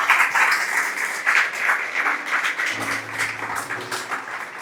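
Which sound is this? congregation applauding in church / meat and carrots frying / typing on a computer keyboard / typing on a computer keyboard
congregation applauding in church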